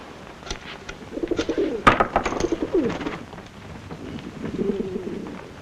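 Pigeons coo nearby in several soft, throaty phrases, with a few rustling flutters and chirps in between and a quieter bout of cooing near the end.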